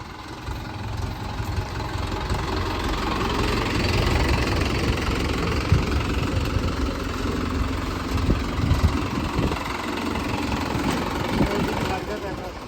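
A tractor engine idles steadily nearby with a low, throbbing rumble throughout, and voices talk over it at times.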